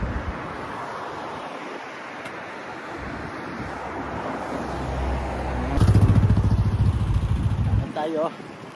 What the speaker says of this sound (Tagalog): Ayan mga nakamotor. Ayan o.